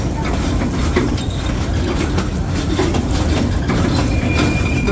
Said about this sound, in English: And there's another train, the older one.